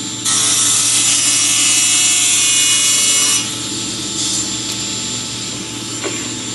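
A YN302 cutting tool saws through wood, a loud steady grinding rasp for about three seconds that stops abruptly, followed by quieter mechanical clicks and handling noise.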